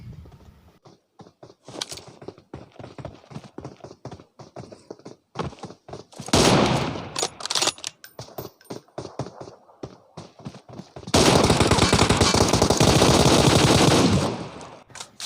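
M4 rifle fire in a shooter video game, rapid bursts of loud automatic shots with clattering footsteps between, including long sustained volleys.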